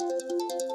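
A mobile phone ringtone plays a short repeating electronic melody, loud and close, with pulsing bright tones over a steady chime, with no talk over it.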